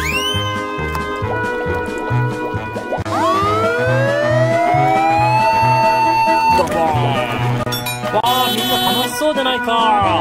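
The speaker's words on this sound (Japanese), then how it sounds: "これは真っ赤な消防車だ。" A toy fire engine siren from a Thomas the Tank Engine toy set wails and warbles loudly over cheerful electronic music and sound effects, rising and falling continuously.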